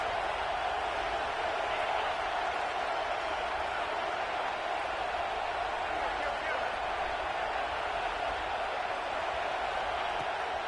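A stadium crowd at a football game roars in a continuous dense wash of noise, loud and unbroken, with no single voice standing out.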